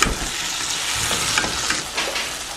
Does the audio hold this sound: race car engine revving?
no